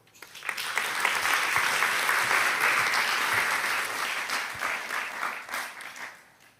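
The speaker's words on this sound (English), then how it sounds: "let's give a round of applause to welcome our next panel" Audience applause welcomes a discussion panel at the NATO Youth Summit, a steady wash of many hands that swells within half a second, holds for several seconds, then thins and fades near the end, with no speech over it.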